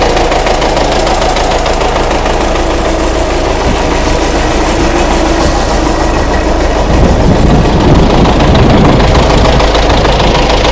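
An MTZ-82 tractor engine idles steadily with a low, knocking rumble that holds constant throughout and grows slightly rougher near the end.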